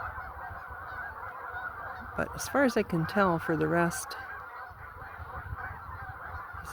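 A noisy flock of mostly Canada geese, with a few ducks among them, lets out a burst of loud honks midway through while someone talks over the scene.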